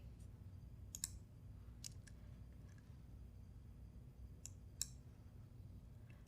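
Sharp computer mouse clicks on a Windows PC, a few isolated clicks with a double click near the start and more around the middle and end, close and crisp over a faint steady room hum.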